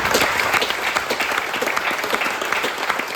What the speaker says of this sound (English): so give them a huge hand of applause.